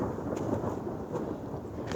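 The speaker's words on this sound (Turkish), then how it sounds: "Yoksa bize çarpacak şimşek" Rolling thunder rumbles through a steady outdoor storm with rain, a continuous low roar filling the whole stretch with no voices.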